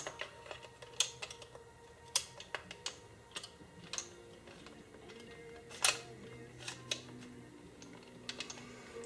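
Parts of a Remington 870 shotgun with a Magpul SGA stock and MOE forend are handled as the bolt assembly is fitted, giving a close series of small, sharp metallic clicks and taps at an irregular pace, with no talking.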